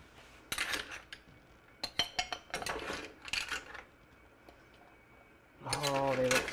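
Clams oreganata being plated onto a dish, with close clinks and clatters of shells, utensils and dishware in irregular bursts, followed by a voice speaking near the end.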